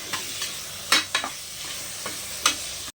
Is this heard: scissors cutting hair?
no